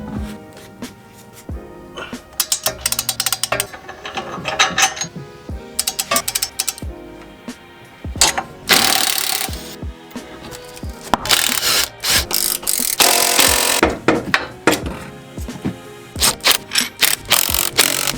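A ratchet works loose the front shock absorber bolts on a Mustang GT during a lowering job, making bursts of rapid clicking and metallic rattles, close and loud, with a few short pauses.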